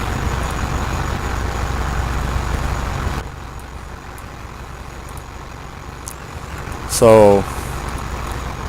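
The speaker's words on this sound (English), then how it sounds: "this is a ladder truck" In the EmergeNYC game, a ladder fire truck's engine rumbles steadily, then drops to a quieter idle, followed by a sharp air-brake hiss and a rising whine. A voice briefly speaks over it.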